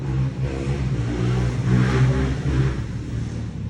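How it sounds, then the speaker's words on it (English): A motorcycle engine revs and drones nearby, swelling slightly in the middle as it passes, with a steady low rumble throughout. "I'm waiting for the motorcycle"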